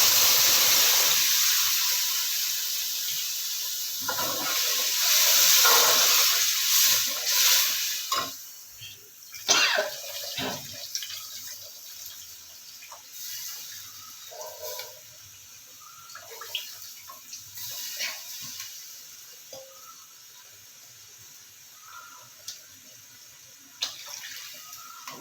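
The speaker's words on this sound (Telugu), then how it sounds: "పులుసుకు సరిపడా నీళ్లు పోసేస్తున్నాం అండి" Water pours into a pot of taro root stew in a long steady rush that fades out, followed by quieter bubbling and scattered small splashes and clinks.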